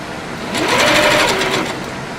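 A serger runs steadily while sewing stretch fabric, a close mechanical hum that rises in speed for about a second, then slows and fades, with no one talking.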